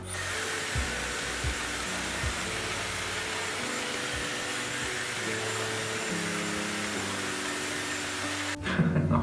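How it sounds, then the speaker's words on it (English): A Dyson Airwrap blow-drying frizzy, wavy hair gives a steady, loud, close whooshing roar of air and motor whine that holds constant throughout, with a brief shift at the end. "So I'll blow dry the back of my head,"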